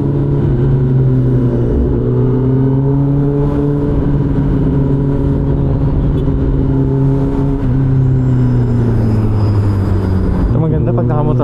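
A Kawasaki ZX10R motorcycle cruises along an expressway past traffic, its engine a loud, continuous drone with slowly shifting pitch and rising revs, and wind roar close to the rider. A voice talks over it.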